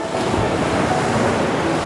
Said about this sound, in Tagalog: nakatingin sa mga kumukulong alon